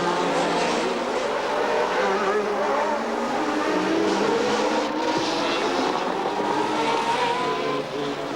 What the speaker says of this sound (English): Expensive engines revved hungrily in the hairpins.